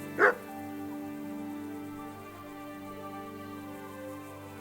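A dog in the medieval role-playing game Kingdom Come: Deliverance gives one short, sharp bark near the start, followed by a quiet stretch with faint game ambience and no further clear yelps or whimpers.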